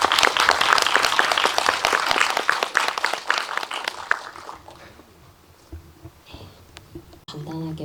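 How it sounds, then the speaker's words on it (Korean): Loud applause from the audience at a film screening Q&A welcomes three directors to the stage, dense clapping that fades after about four seconds into quiet shuffling, footsteps and a few soft sounds as they take their seats. "큰 박수로 맞이해주세요."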